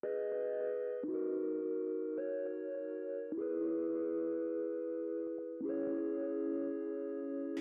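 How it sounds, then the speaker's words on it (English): A heavily distorted, plucky synth lead in a K-pop-style production, playing sustained bright tones that change pitch in four or five steady steps, loud and alone with no voices. "Super distorted, like plucky lead,"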